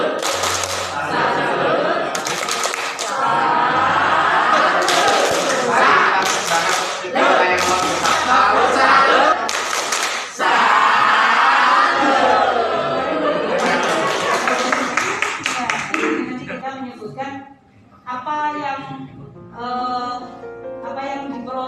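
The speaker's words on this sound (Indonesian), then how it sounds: "Tepuk salut." A group claps in the 'tepuk salut' chant at a teachers' workshop in Nganjuk, with dense rhythmic claps in bursts alongside shouted voices and laughter, ending in a tail of speech.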